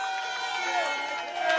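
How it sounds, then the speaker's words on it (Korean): A crowd at an outdoor presidential election campaign rally near Paju's Unjeong Station sends up a dense wash of cheering and applause, steady and close for its short length, with voices mixed in. "큰 박수 부탁드립니다."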